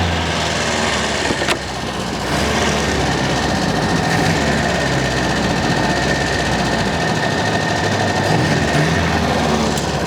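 A 1929 Austin 7 Chummy's small engine, just cleared of a gunky carburetor, runs steadily and loudly, a constant close drone.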